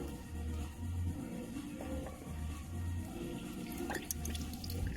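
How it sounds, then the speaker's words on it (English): Water drips and trickles through the sunroof drain of a 2011 Renault Megane, a faint, intermittent splashing and dribbling at close range with no talk. "Water's coming in."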